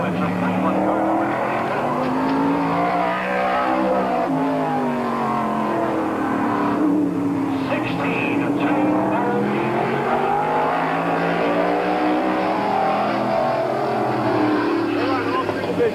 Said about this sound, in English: Stankiewicz out of Cleveland, car number 24 on the track now